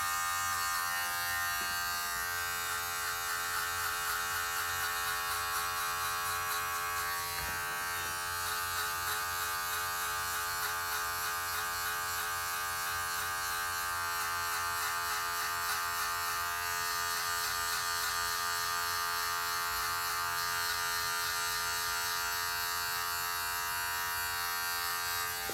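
Electric hair clippers with a half guard set closed buzz steadily and continuously through a DIY haircut, a close, even motor hum with slight changes as they move through hair, and no speech.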